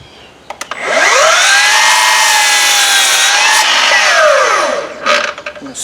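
A power saw whining up and cutting through a cedar wood block, one sustained loud cut of about four seconds with a rising and falling pitch, followed by a few knocks.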